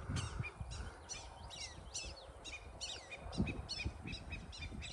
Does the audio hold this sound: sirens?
no